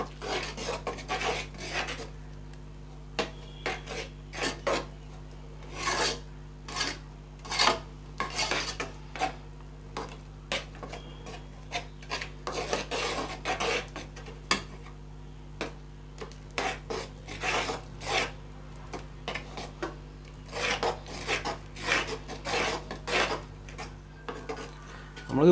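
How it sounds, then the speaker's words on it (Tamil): Urad dal kali is stirred in oil in a pan with a spoon, giving repeated scraping and rasping strokes in an irregular rhythm, close and moderately loud with brief pauses between bursts. "இன்னும் கொஞ்சம் எண்ணெய் விட்டு திருப்பி கிண்டிகிட்டே இருக்கிறோம்."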